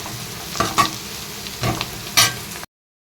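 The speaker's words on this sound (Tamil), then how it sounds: "வெங்காயம் வந்து இந்த அளவுக்கு வதக்குனா போதும்" Onions sauté in a pan for a Tamil Nadu style curd curry, with a spatula stirring in several distinct scraping strokes over a sizzle before the sound cuts to silence.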